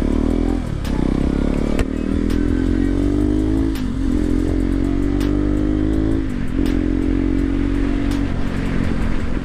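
Motorcycle riding along a road toward a dealership showroom, engine droning steadily close by with repeated rises and dips in pitch as the throttle opens and eases, no talking.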